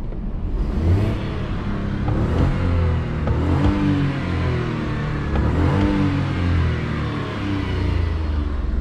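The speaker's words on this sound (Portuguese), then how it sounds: "foi a roncada aí desse carro sensacional." A Volkswagen Gol 1.0 three-cylinder engine revs repeatedly, a close, loud, gravelly drone that rises and falls in several throttle blips over a steady low rumble, with no voices.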